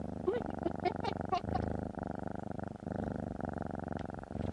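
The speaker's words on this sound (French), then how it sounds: "ah c'était le ronronnement" A cat purrs close up in a steady, rhythmic rumbling cycle that runs throughout, with a few brief higher sounds near the start and no talking over it.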